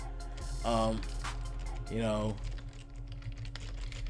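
Soft, continuous clicking of a computer keyboard beneath a person talking, over a steady low electrical hum.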